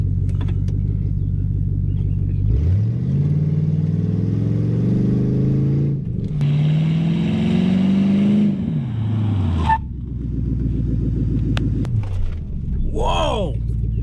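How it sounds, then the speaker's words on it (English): A Crown Victoria fitted with slotted brake rotors accelerates hard with its engine droning and rising through the gears, then slows sharply as the engine note falls, heard loud from inside the car with some tire or brake noise near the end. "I'm gonna drive pretty damn fast, and I'm gonna slam on the brakes"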